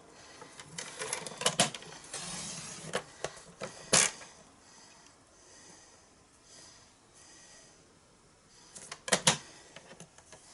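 Card stock for a watercoloured stamped card being trimmed, with a few scattered crisp cutting snaps and slides, loudest near the start and again near the end, over a quiet room background.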